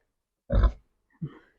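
A pregnant sow grunts while eating feed in a village pen, two short close grunts, the first deep and louder, the second softer, with quiet in between.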